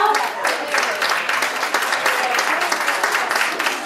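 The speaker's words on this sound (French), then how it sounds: "Les applaudis très fort." Audience at a dance gala, the Bal des Étoiles 2014, breaks into steady, dense applause that fills the whole stretch, many hands clapping at once with no break.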